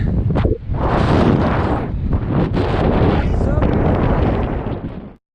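Strong wind buffets the microphone on the summit of Mt. Elbert, a loud, rough roaring rumble with gusty surges that cuts off abruptly at the end; speech also seems to be present.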